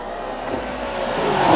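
A Range Rover Sport SV Edition 2 engine and exhaust drone steadily and build slightly in loudness over a brief stretch, heard from inside or near the moving vehicle with no talk.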